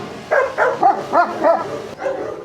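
A dog barks close by in a quick series of about six short, rhythmic barks, then briefly stops before one more bark.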